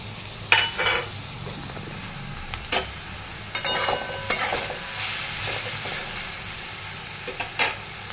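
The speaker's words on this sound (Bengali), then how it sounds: "আলুটা ভাজছি, এর মধ্যে নুন আর হলুদ দিয়ে দিয়েছি" Potatoes frying in a pan with salt and turmeric, stirred now and then: a steady low sizzle runs throughout, broken by several sharp scrapes and clinks of the spoon against the metal pan, heard close with no talking.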